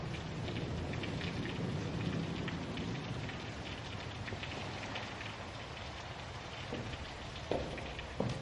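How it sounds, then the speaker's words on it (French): Heavy rain pours steadily in a dense hiss, with a couple of sharper knocks near the end and no voices. "Il commençait à pleuvoir des cordes"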